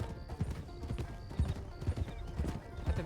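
Horse hooves clip-clopping at a steady riding pace in a video game, fairly close and moderately loud over a low background wash, with a faint whinny-like tone.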